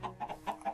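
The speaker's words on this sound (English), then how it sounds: "Look at all the chickens!" Several quick, close clucks from a flock of chickens in the Minecraft video game, a rapid run of short calls over about a second.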